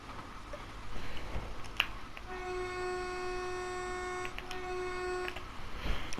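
Horn of a Great Western Railway train sounding on the Reading to London Paddington line in Train Sim World 2020, two steady sustained blasts, the first long and the second shorter, over a constant rumble of the moving train.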